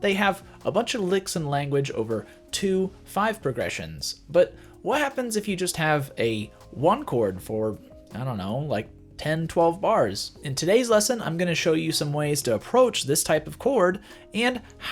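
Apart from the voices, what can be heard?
No everyday noise stands out behind the speech.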